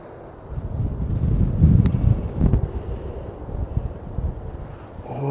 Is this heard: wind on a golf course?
yes